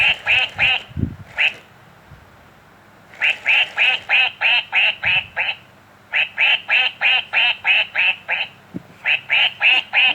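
A duck quacks loudly and close by in rapid runs of repeated calls, separated by short pauses.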